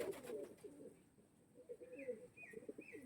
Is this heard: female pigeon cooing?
yes